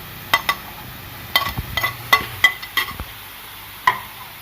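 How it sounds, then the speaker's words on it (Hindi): Green chillies and onions fry in a pan under a faint steady sizzle, with a utensil scraping and clicking in sharp irregular strokes. "इसे भी हमने फ्राई करना है"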